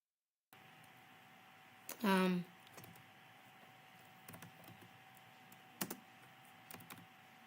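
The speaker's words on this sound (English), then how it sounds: "What am I even typing?" Sparse, quiet taps on a computer keyboard, scattered at irregular intervals in a quiet room after a brief louder chirp.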